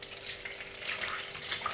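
About 200 ml of milk is poured into a mixing bowl for a sticky toffee apple pudding, making a soft, steady liquid trickle at close range.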